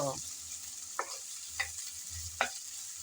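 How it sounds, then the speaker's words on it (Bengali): Chopped onions frying in hot oil, a soft continuous sizzle punctuated by three quick scraping stirs of a spatula in the pan, fairly quiet and close. "সেই গরম তেলে দিয়ে দিলাম কিছুটা পরিমাণ পেঁয়াজ কুচি হালকা ব্রাউন কালার করে নেড়ে চেড়ে ভেজে নেব"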